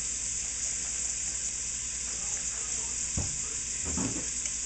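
Garlic frying in a pan gives a soft, steady sizzle beneath a faint background hiss, with a couple of brief clatters of stirring or handling near the end.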